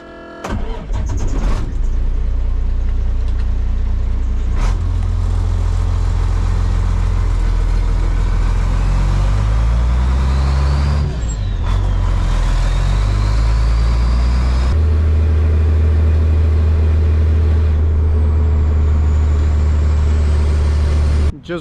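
A work truck drives back to the shop after a tree removal job, a loud close engine drone from inside the cab with gear changes and shifting revs, steady throughout with a brief voice early on.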